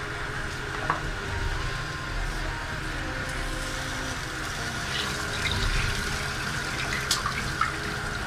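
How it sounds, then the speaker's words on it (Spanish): Tap water pours steadily into a cooking pot that holds chicken for chicken and vegetable broth, a continuous close splashing fill with no talk over it. "Le voy a echar agua"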